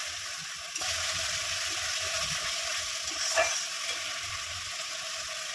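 Spices with salt, turmeric and a little sugar sizzle and fry in a pan while being stirred, a steady close hiss with occasional scraping strokes of the spoon.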